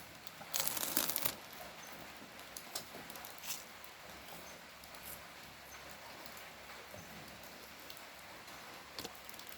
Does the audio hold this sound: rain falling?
yes